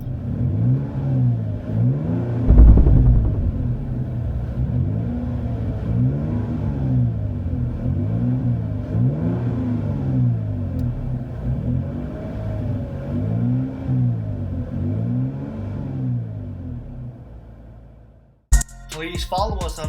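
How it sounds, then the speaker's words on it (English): A 2019 Toyota Tacoma V6 fitted with a Flowmaster Delta 40 cat-back exhaust, heard from inside the cab as a mild, low engine drone that rises and falls through repeated accelerations and shifts, then cuts off abruptly near the end. "Interior tone level is mild with this Flowmaster Delta 40 catback exhaust."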